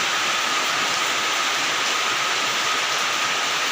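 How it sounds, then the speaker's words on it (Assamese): Steady rain falls throughout as a dense, even hiss with no breaks, fairly loud and close, with no voices. "বৰষুণ দিছে নেকি"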